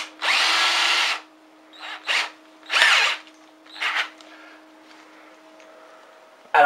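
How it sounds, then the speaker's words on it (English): A power drill with a small pilot bit drills a hole for mounting an LCD TV on a tripod, several close whirring bursts of varying length with a faint steady hum underneath and no talk. "grab yourself a small pilot drill bit. That's going to go through there first."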